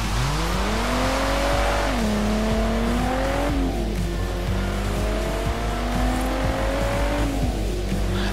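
A 27-year-old car from the Playseat car pack in Forza Horizon 3 revs loudly and steadily, its engine pitch sweeping up and down through repeated throttle blips, with faint tire squeal and no talking.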